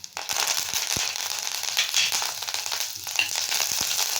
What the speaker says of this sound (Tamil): இப்போது கடுகு வெடிக்குதுங்க